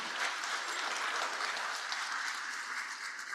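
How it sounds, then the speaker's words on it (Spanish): Sustained audience applause at a university event on artificial intelligence in education, a dense steady wash of many hands clapping at even loudness throughout, with no talk over it. "a quien también le enviamos un fuerte aplauso desde Quito"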